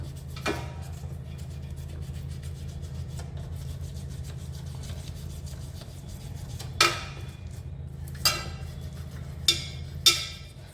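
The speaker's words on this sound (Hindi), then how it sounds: "तो इस तरीके से हम फिर माता की मूर्ति को पूरा रगड़ लेंगे" A brass idol of the goddess is rubbed by hand for cleaning, giving a steady soft rasping scrub throughout with a few sharper scrapes and knocks toward the end.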